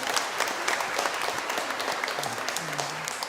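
Church congregation applauding during a Sunday Easter Mass, a dense, continuous patter of many hands clapping at moderate volume with a faint voice beneath.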